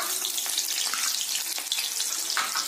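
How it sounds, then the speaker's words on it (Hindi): Cumin seeds and a little chopped onion fry in hot oil for palak paneer, giving a loud, dense, continuous crackling sizzle close up, with faint scraping under it. "ऑयल गर्म हो चुका है, मैं इसमें अब जीरा डालूंगा, थोड़ी सी प्याज डालूंगा"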